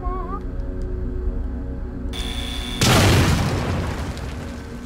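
A bomb goes off in The Evil Within video game, a loud deep blast bursting in after a tense tonal ambience and rumbling on for a couple of seconds before easing off.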